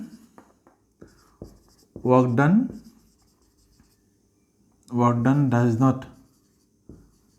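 Chalk or a marker scratches and taps on a board during a physics lecture, a series of short, close strokes between stretches of someone speaking.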